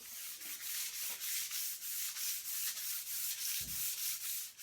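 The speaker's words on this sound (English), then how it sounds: "So we're going to hand sand this and the two rails over there" A wooden table top is hand-sanded between finish coats: steady, rhythmic rubbing strokes, roughly three a second, close and fairly quiet, with no voices.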